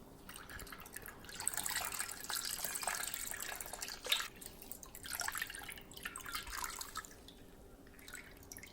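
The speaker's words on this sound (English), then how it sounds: "I'm going to mix it together again and filter it." A fermented rice-flour brew is stirred and poured through a filter, giving soft, intermittent sloshing, dripping and trickling liquid sounds that are faint and nearby, with no one talking.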